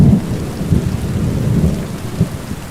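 Steady rain with deep, rolling thunder rumbling underneath, heavy and continuous, with no voices.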